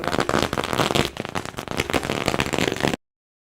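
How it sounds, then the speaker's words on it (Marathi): Firecrackers burst at the opening ceremony of a village cricket tournament during the pitch worship, a dense rapid string of sharp crackling pops, loud and close, running for about three seconds before cutting off. "खेळपट्टीचं पूजन होत असताना आपण पाहतोय फटाक्यांच्या आतिषबाजीमध्ये"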